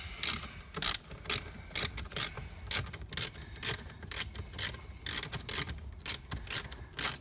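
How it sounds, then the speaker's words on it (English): Quarter-inch ratchet backing a bolt out of the dash of a 2015 Cadillac Escalade, a rapid series of sharp clicking bursts in an uneven rhythm, close and fairly quiet, with no talking. "which I'll remove with a quarter inch ratchet on this guy"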